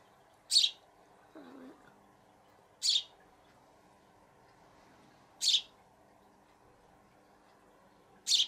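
A Eurasian tree sparrow gives short, bright chirps, four evenly spaced single calls about two and a half seconds apart, close and clear against a quiet background with a faint low murmur.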